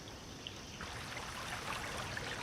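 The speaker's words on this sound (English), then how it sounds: "Water coming from the khettaras supplies an irrigation network across the fields." Water flows from underground khettara channels through seguia irrigation channels across fields in a Moroccan oasis, a soft continuous trickle and babble that swells slightly about a second in.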